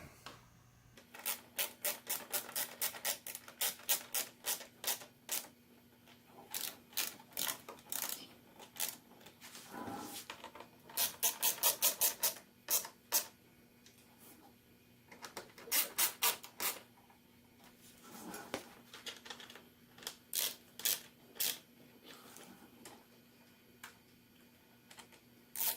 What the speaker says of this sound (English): now that all the screws are in, we're going to go around and tighten them up